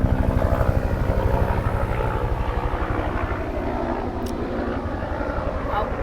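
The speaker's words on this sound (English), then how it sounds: "It's a helicopter taking off." A loud, close helicopter with rapid rhythmic rotor thumping and engine whine, steady throughout, a voice faintly audible beneath the din.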